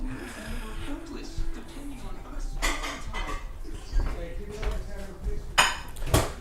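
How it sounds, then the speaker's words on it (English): Dishes, pans and cutlery clatter in a communal kitchen while a chef cooks waffles, irregular clinks and knocks close by with a voice speaking over them. "Communal kitchen. Jose, our chef, is cooking waffles for dinner."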